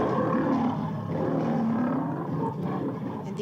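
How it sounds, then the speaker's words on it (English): A lion's roar plays as a sound effect, one long, loud, rumbling growl that lasts the whole moment without pause. "What noise does a lion make?"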